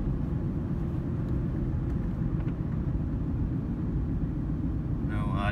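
A 2008 Ford Ranger 2WD with a five-speed manual cruises at about 40 mph in fourth gear, giving a steady low road and engine rumble inside the cab, with brief higher sounds near the end.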